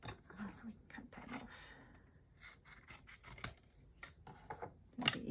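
Scissors snipping through patterned craft paper while trimming toadstool pieces, a few brief close crisp cuts and rustles mixed with quiet handling sounds.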